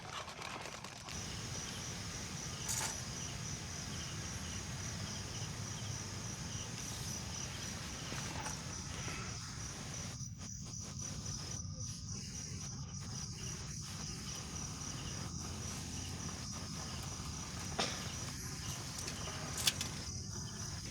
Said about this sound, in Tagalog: Tapos puro mga kuliglig lang yung naririnig mo.